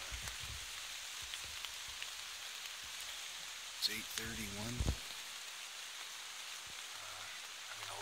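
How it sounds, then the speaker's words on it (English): Rain falling outdoors during a hunt, a steady soft hiss of drops throughout, faint and even, with someone briefly speaking partway through. "and now it's starting to rain."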